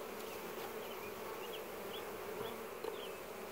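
Honey bees swarm around an open, weak hive with a laying-worker problem, a dense continuous buzzing hum from many bees close by, steady in level with no talk.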